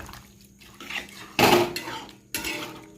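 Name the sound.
pouring a little water into the curry pan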